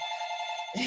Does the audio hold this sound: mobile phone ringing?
yes